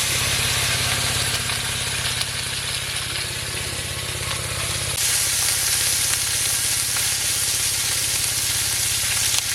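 Mourala fish frying in oil, a loud dense sizzle that crackles continuously with a faint low hum beneath and a slight shift in texture midway, no voices.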